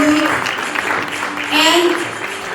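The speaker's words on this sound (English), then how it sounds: "Give them a huge round of applause" A charity fundraising evening crowd applauds a champion FIRST LEGO League robotics team, with brisk, loud clapping mixed with cheering voices, swelling briefly louder near the end.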